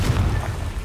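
A Confringo spell explodes in the Hogwarts Legacy video game, a brief heavy boom with rumbling low-end that rolls on through the short moment.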